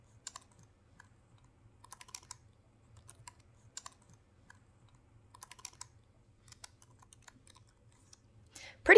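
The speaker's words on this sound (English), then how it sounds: "Now I just enter in my new password, and my password is changed." Keys tapped on a computer keyboard while a new password is entered, in sparse, irregular clicks and short bursts with pauses between them, quiet and close, over a faint low hum and with a louder knock at the very end.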